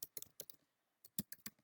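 Computer keyboard typing in short, uneven bursts of clicky keystrokes, close and fairly quiet, with a brief pause in the middle before another quick flurry.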